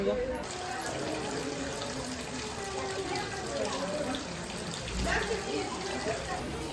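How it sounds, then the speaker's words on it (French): A public stone fountain in the tourist village of Saint-Paul-de-Vence splashes in a steady, close wash of running water that does not let up, with a faint low thump partway through. "On a trouvé une fontaine."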